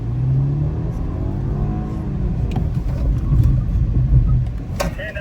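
A BMW G20 sedan drives at about 60 km/h on a safety training course, its low engine and tyre rumble steady and close, with a few brief sharp clicks near the end.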